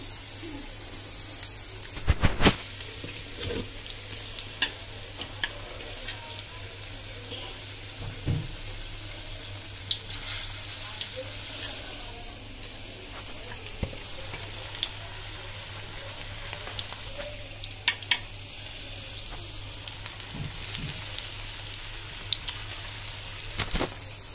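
Cauliflower and chicken pakoras frying in hot oil, a continuous faint crackling sizzle with scattered sharp pops and light clicks throughout.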